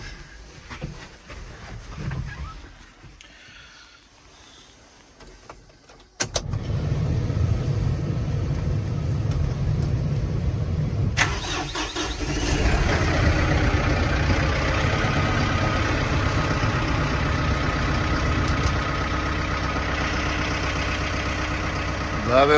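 A Kubota tractor fitted with hay forks starts up close by. After a quiet stretch the engine catches abruptly, then settles into a steady, loud idle that grows rougher and fuller partway through, running continuously to the end.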